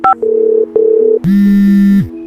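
Telephone call tones over a handset line: a short rising beep, two sustained steady tones with a brief gap, then a louder, lower buzzing ring tone for about a second, heard alone with no voices.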